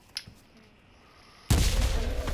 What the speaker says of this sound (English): He threw a grenade then, cleared out my fucking zombies.